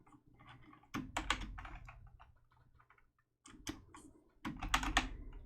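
Keys tapped on a computer keyboard in two quick bursts of clicks separated by a pause, close and fairly quiet, with no talking.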